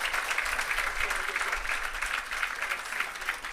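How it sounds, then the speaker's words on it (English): Applause from the crowd at the commissioning and launch of the Parnassus Irrigation System and Agro Park, fairly faint and steady, with voices murmuring through it. "give them a big round of applause"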